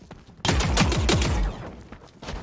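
Rapid burst of gunfire in the shooter game The Cycle: Frontier, about a second of loud, close repeated shots that stops abruptly, followed by quieter ambient rattles.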